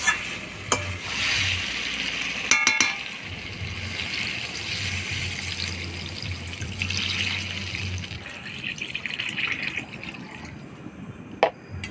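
Water poured into a pan of sizzling mutton curry, a steady frying hiss with stirring scrapes and brief clinks, close and moderately loud, with the sizzle fading near the end.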